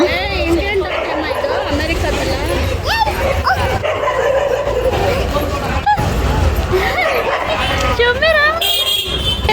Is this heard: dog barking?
yes